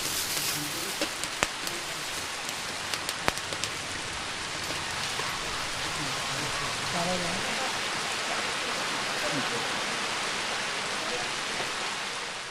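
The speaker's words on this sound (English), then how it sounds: "It's raining. This is the first rain we've had in 3 weeks." Steady rain falling outdoors in India, the first rainfall in weeks, a dense even hiss of drops on surfaces with a few sharper nearby drips, continuing unbroken throughout.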